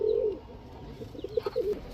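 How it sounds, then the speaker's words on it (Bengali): A male lavender chuya chandan gorra pigeon coos softly up close, a low burbling call at the start followed by a string of short throaty notes as it is released. "তো এই ল্যাভেন্ডার চুয়া চন্দন গররা নরটা আমি ছাড়লাম, দেখেন কবুতরটা একটু ভালোভাবে।"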